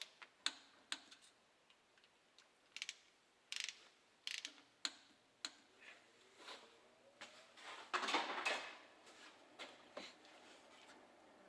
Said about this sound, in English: Take your ratchet and pull up slight tension.